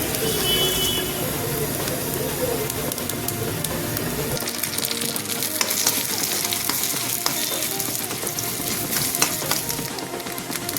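Mustard seeds spluttering and popping in hot oil in a pan, a steady crackling sizzle with sharp pops throughout, close and continuous.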